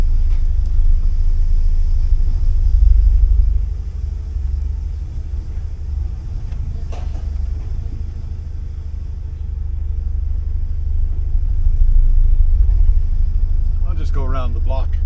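A 1979 Porsche 924 drives around the block, heard from inside as a loud, steady low engine and road rumble that swells and eases, with a brief voice near the end.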